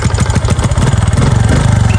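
Honda XRM motorcycle engine running loud and close, a rapid throbbing idle that picks up into a steady rev, with no talking over it.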